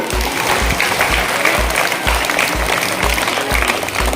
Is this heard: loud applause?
yes